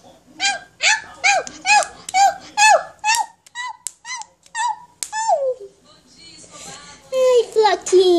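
A young child playing pretends to be a puppy, voicing a rapid run of high yipping barks close up, then chatter and more squeals; the voice imitates a dog.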